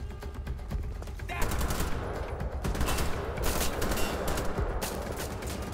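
Bursts of rapid gunfire in the game Wolfenstein: The Old Blood crackle and rattle continuously, loud and close, with sharp volleys repeating throughout.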